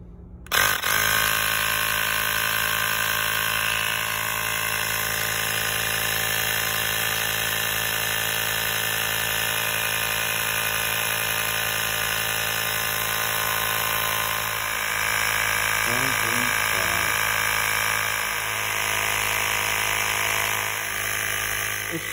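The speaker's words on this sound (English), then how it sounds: "4 volt FVIF51 inflator, Ryobi" A Ryobi 4-volt FVIF51 cordless inflator runs with a steady, continuous motor whine and hum that holds for the whole stretch, with a faint voice briefly audible partway through.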